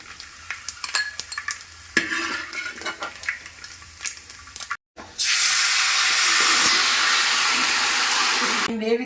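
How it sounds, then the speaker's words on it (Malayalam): Raisins dropped into hot ghee for payasam, a steady loud frying sizzle with hiss that swells after a short gap, preceded by stirring and utensil clinks in the pan. "ഉണക്ക മുന്തിരിങ്ങ, അതും കൂടെ അങ്ങോട്ടിട്ട് മൂപ്പിച്ച് കോരാം"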